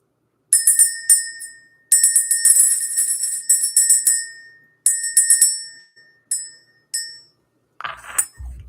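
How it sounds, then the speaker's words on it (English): A small metal bell rung to clear out energy, struck in quick clusters of bright, ringing chimes with short pauses between bursts, close and loud, ending with a soft thud. "We're going to ring the bell."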